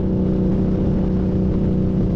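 An Indian Scout 60 motorcycle's exhaust drones steadily and loudly as it pulls onto the highway, a close, continuous low rumble with no talking.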